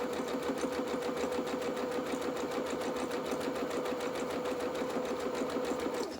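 A sewing machine runs zigzag stitching through pajama-bottom fabric, a steady fast mechanical chatter held at an even, close, loud level for the whole stretch with no pause and no voices.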